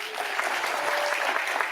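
A crowd at an innovation expedition session applauds, steady dense clapping from many hands, close and loud, running unbroken throughout.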